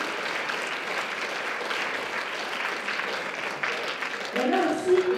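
A cosplay contest audience at Japan Impact 2020 applauds in a steady, dense wash of clapping from a large crowd. The applause swells slightly near the end as a voice begins speaking over it.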